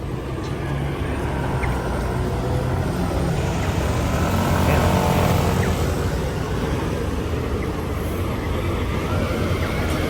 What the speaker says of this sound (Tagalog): Ayan yung mga motor dito.